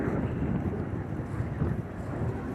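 Steady wind buffets the microphone in a low, continuous rumble with gusty swells, no talking.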